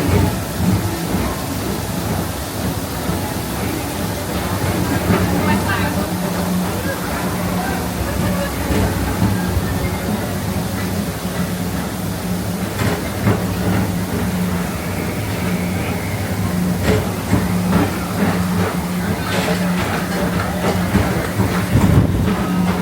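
The Disney World PeopleMover ride vehicle rolls along in the rain, giving a steady rumbling track noise blended with rainfall, while a recorded voice speaks over the top.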